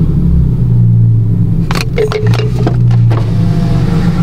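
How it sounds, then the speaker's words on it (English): A loud car engine runs close by in park with a steady deep rumble and brief revving swells, plus a few sharp clicks and knocks over the top. "That's how loud my car is so fucking loud that I thought she was sitting there revving."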